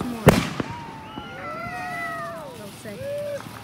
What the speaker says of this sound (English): There's fireworks above us.